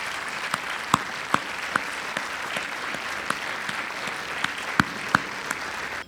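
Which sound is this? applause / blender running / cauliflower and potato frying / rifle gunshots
applause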